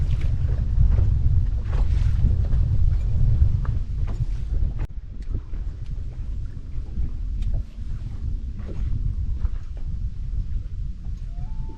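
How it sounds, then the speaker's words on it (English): Gusty wind buffets the microphone on a boat out on Leech Lake, a constant low rumble with scattered knocks and creaks from the boat, heard alone without any voices. "here comes the wind"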